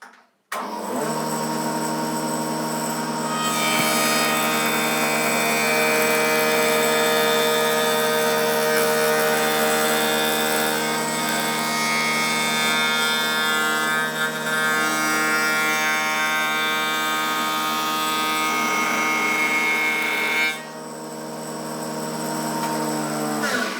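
Steady whining drone of a bearing-guided router cutter smoothing the edge of a wooden workpiece for a round table, loud and continuous for about 20 seconds with no talk, then spinning down near the end.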